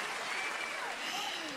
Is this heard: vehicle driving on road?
no